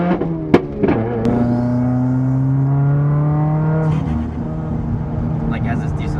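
A Subaru WRX engine revs up through boost and falls away, its tone climbing steadily for several seconds before easing off, with a couple of sharp clicks at the start and people talking over it.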